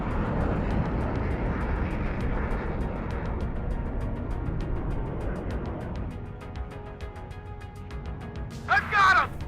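An aircraft makes a strafing run in the Cold War strategy game WARNO, a broad roaring engine wash that swells and then fades, heard under a man's speech and game radio chatter.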